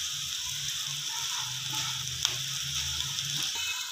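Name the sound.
aloo paratha sizzling on a pan as it is pressed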